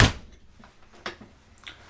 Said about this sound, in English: This is the screen door for the patio door.